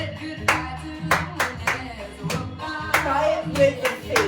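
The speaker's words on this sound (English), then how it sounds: "Ready to clap" Hand clapping in a dance class, a set of evenly spaced, close, sharp claps in a regular counted rhythm, with some faint talking under them.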